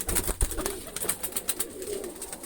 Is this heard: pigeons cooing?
yes